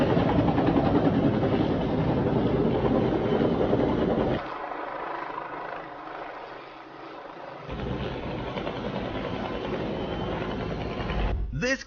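A Marine Corps helicopter's engine and rotor roar steadily, loud and close, dropping to a lower rumble midway before building back up.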